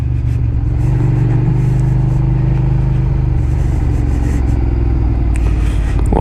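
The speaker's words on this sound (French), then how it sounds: "ça fait longtemps que j'ai pas pris la moto" A motorcycle on the move: a loud, continuous engine drone that holds steady the whole time, with no talking.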